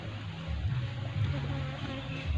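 Bees drone steadily around an opened beehive that holds drone bees, a close, continuous low buzz with overlapping wingbeats and no voices.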